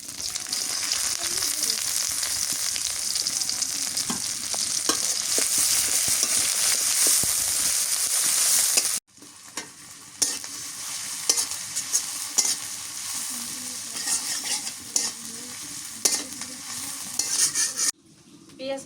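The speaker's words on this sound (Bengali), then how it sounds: "পেঁয়াজ মশলা ভাজা হয়েছে" Chopped onion, bay leaves and whole spices fry in hot oil in a village kitchen pan, giving a loud, steady sizzle with repeated stirring scrapes that cut out briefly twice.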